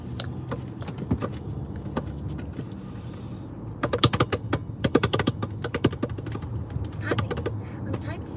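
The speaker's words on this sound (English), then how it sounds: "Okay, I'm typing." Someone types on a computer keyboard, sounding as irregular bursts of sharp clicks that turn quick and dense midway, with background noise and a voice now and then.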